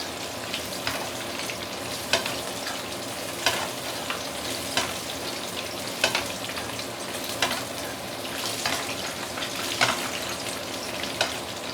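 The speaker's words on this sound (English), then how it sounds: "Total deep frying time for this very big fish shell is about 7 minutes." A very big sea bass (siakap) deep frying in hot oil, a constant close crackling sizzle with occasional louder pops and stirring scrapes, no talking.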